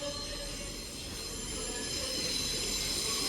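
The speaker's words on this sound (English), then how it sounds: "And the train now arriving into platform 13 is the" A train pulls into platform 13 at Manchester Piccadilly station with a steady metallic squeal of wheels on rails over a low rumble, growing slightly louder as it draws in.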